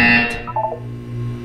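A synthetic buzzer from the Portal 2 video game sounds once, a loud steady electronic tone lasting about a quarter second, then a short fluttering electronic chirp before a low steady hum.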